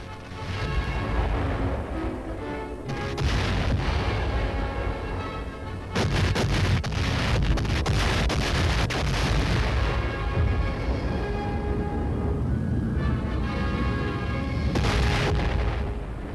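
Heavy, continuous rumbling barrage of the naval and air bombardment of Okinawa in the Pacific War, dense booms and blasts rolling together without pause under a loud, sustained roar.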